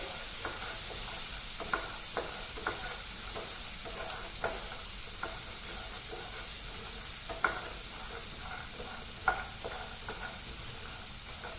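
Peanuts roast in a pan for aloo samosa, with a soft continuous sizzle and hiss under intermittent light clicks and scrapes as they are stirred, fairly quiet and without speech.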